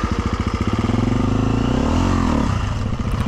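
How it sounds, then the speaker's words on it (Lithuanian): Four-stroke enduro motorcycle on a steep mountain trail of the Red Bull Romaniacs course, its engine chugging in rapid low pulses before revving up and easing off, loud and close. "Pasitaisau motociklą, kad būtų tinkamai pozicijai. Ir bandau kažką važiuoti."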